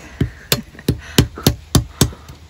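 A hammer cracks wild nuts with a series of seven sharp, close knocks spaced about a third of a second apart, each blow a crisp crack with a brief thud.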